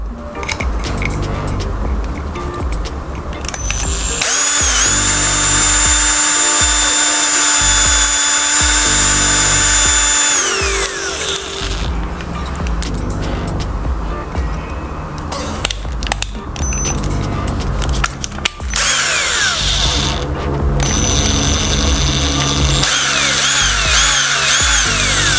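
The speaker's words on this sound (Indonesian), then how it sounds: "Ha, inilah tempat drill. Okey, kita drill." Power drill boring into wood, its motor whining loud and steady in two long bursts, then shorter runs with rattling handling and clunks between, no talk.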